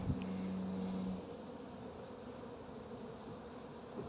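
A steady, low buzz of honey bees hums throughout during a hive inspection, many bees droning close by, with a brief louder tone at the start.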